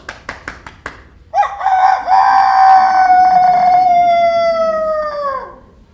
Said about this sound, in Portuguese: logo que o galo cantou